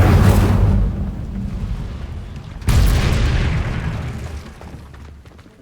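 Incendio fire spell cast in Hogwarts Legacy: two loud whooshing bursts of flame, the second starting about halfway through, each with a deep rumbling body that fades slowly, heard alone without voices.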